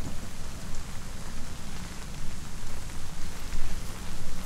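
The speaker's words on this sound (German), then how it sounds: "Und jetzt regnet es auch noch." Steady rain falls in Hellblade: Senua's Sacrifice, a dense, even hiss of drops with a low rumbling bed, continuous and fairly loud throughout with no voices.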